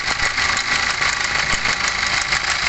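A 2014 Hyundai Santa Fe CRDi diesel engine idling with a loud, steady rattle coming from the top of the engine, a possible worn timing chain, recorded up close with no talking.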